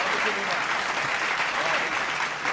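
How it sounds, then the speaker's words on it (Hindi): Audience clapping at a Hindi political poetry recitation, a continuous dense patter with a faint voice mixed in underneath. "तालियां बजा के मिलके बना दो आप लोग।"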